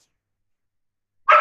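A single dog bark breaks a stretch of silence, a short, loud, close burst right at the end.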